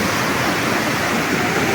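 Water flowing at a lake, a steady, dense rushing wash of close, loud noise with no breaks.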